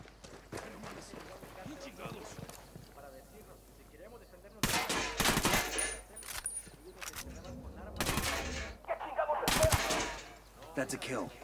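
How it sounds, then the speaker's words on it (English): Sniper rifle shots in Ghost Recon: Wildlands ring out as a few loud sharp cracks amid game ambience, with people talking over them throughout. "Who's sniping at us?"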